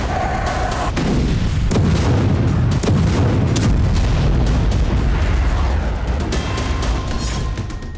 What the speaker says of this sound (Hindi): मरिंका में रूस की तरफ से भारी गोलाबारी की जा रही है।